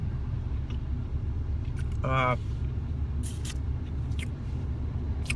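A steady low engine rumble fills the cabin of a 1998 Buick LeSabre idling in standstill traffic on a highway. It runs continuously, with a brief voice-like tone and a few faint clicks on top.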